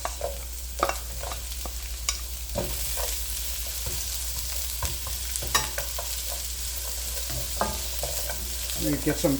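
Onions and garlic stir-fry in a hot pan, a steady sizzle broken by irregular scrapes and clanks of a spatula, close and loud, with no talking.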